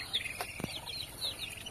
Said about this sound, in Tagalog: Yan ang ating mga pato.